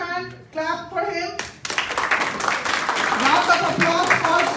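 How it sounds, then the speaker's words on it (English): An audience at a general convention breaks into a burst of hand clapping right after a voice speaks, the applause swelling and holding steady to the end. "Clap for him."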